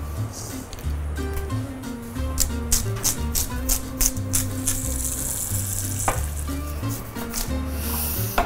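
Orzo, asparagus, chorizo and mussels sizzle together in a pan in a kitchen: a steady, fairly loud frying hiss with sharper crackling bursts, running beneath low voices and a humming background.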